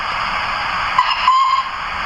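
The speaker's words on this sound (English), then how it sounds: "Little fancy whistle." A thin, high whistle from a Hornby NBR J36 model steam locomotive sounds in two short toots over a constant hissing background, small and close.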